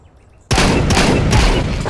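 After a brief hush, a loud, dense barrage of close shotgun blasts erupts in a video game match and keeps roaring to the end.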